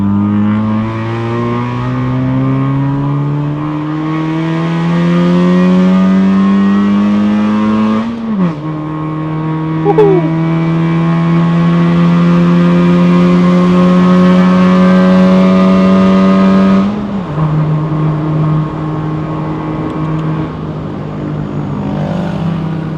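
A Honda Fit RS GK5 with a six-speed manual and modified exhaust pulls hard up a mountain road, engine note climbing through the revs, dipping at two gear changes, then rising again, loud and close from inside the cabin.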